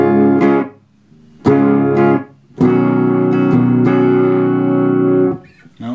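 An electric guitar strikes distorted chords through a Death By Audio Reverberation Machine clone reverb pedal with gain, each left to ring with a lingering wash of reverb before the next strum, loud and close.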